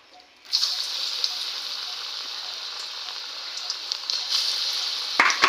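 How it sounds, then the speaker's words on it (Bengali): Cabbage fritters coated in besan drop into hot oil and break into a bright, steady sizzle that holds loud and even until a couple of sharp knocks near the end. "তো এবার তেলের উপরে দিয়ে নেবো আগে এই বাঁধাকপি বড়াটাই করে নিই"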